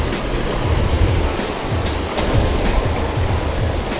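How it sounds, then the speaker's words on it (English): Strong headwind roars steadily across a tropical rocky shore point, mixed with dense surf wash, loud and unbroken with no talk. "Got a strong headwind today."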